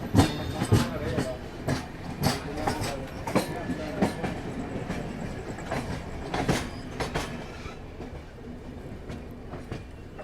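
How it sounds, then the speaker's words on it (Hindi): Kushinagar Express rolls past on an Indian railway line at a crossing, with repeated rhythmic clatter of wheels over rail joints, fairly close and steady, fading slightly near the end. "एक और गोरखपुर एलटीटी एक्सप्रेस है अपनी क्रॉसिंग, ये है कुशीनगर एक्सप्रेस"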